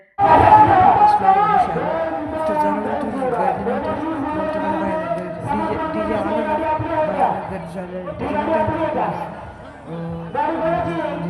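A large crowd of Maratha reservation marchers heading to Mumbai fills the air with loud overlapping shouting and chant-like voices, continuous and close, with brief dips between swells.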